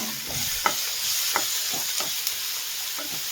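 Two chopped tomatoes fry in oil in a pan, a continuous close sizzle with a soft steady hiss, punctuated by a handful of light spatula scrapes and taps at uneven intervals.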